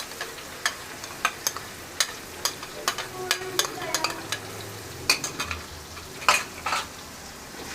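Garlic and ginger paste fries in a pan, with a soft sizzle under repeated sharp clinks and scrapes of a spoon stirring against the metal at a steady, close rhythm.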